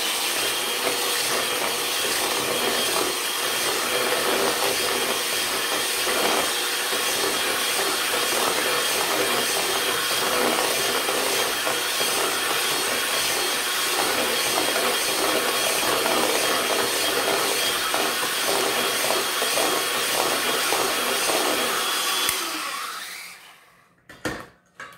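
An electric mixer beats cold brew brownie batter in a kitchen. A loud, continuous whirring drone holds steady for over twenty seconds, then cuts off abruptly, with no talk over it.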